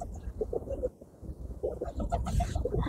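A tame bird close by in Romania gives short, clucking calls in a few quick bursts, with a brief pause between them.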